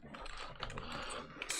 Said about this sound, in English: I'm going to fight with these keyboards.